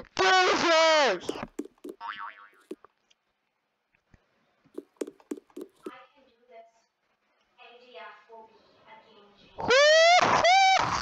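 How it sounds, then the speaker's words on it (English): A loud springy boing sound effect plays at the start and again at the end, with a voice talking in short bursts in between. "It's a stupid annoying jump sound!"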